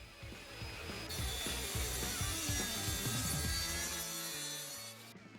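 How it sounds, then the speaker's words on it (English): A track saw rips through a rough sawn oak tabletop, a continuous high whining cut over a rumbling motor, close and moderately loud, starting and stopping cleanly with no speech. "I used my track saw to clean up the first edge."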